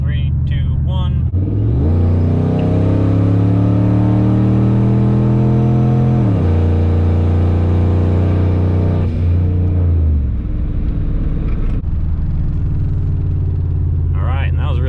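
A big single-turbo Ford F150 pickup pulls hard from a 50 mph roll, its engine note climbing loud and rising through the gears, with a shift around the middle, then easing off. Voices talk before and after the run.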